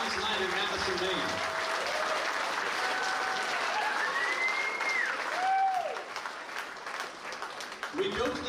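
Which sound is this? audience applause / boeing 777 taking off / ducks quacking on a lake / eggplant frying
audience applause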